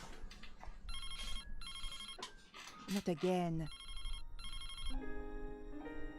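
A telephone rings in Broken Sword: The Sleeping Dragon, repeated electronic trilling bursts in a steady pattern, with a voice speaking briefly between rings.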